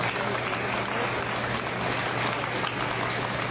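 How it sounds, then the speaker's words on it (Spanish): Strong audience applause at an international automotive mechanics expo, a steady, loud wash of many hands clapping continuously with a low hum beneath. "Por favor, un fuerte aplauso por ese gran compromiso social."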